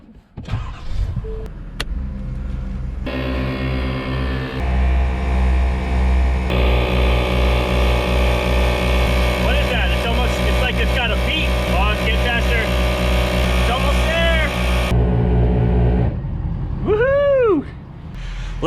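ARB air compressor of a truck's on-board air system running steadily and loudly for around ten seconds, with the truck's engine idling underneath and a voice talking over it; it cuts off near the end.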